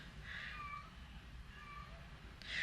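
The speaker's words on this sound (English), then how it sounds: "so if you hear a little kitty cat crying in the back" A few soft, high-pitched cat meows drift in from a distance, faint against a steady low rumble of stormy weather.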